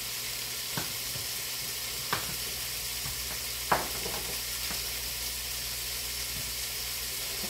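Pork pieces browning in a pot for a one-pot stew pork meal, giving a steady, continuous sizzle with broadband frying hiss, punctuated by a few brief clinks or stirring knocks, close and moderately loud with no talking.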